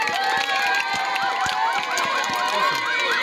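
A crowd cheers and shouts at an outdoor inauguration of a modern water well and pump at a secondary school, a continuous loud wash of voices with children's shouts rising over it.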